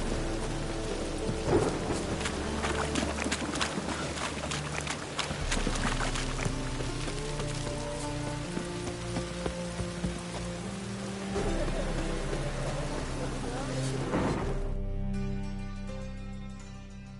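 Steady rain with rolling thunder in the open world of the video game The Witcher 3: Wild Hunt, a constant loud downpour with deep rumbles throughout, easing near the end.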